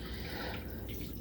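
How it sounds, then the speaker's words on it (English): Water jetting up from an internal pump at the bottom of a 6-gallon hydroponic reservoir, forced through a ring out to the plant sites, giving a steady, close, continuous splashing trickle with no talk. "There's a nice jet of water."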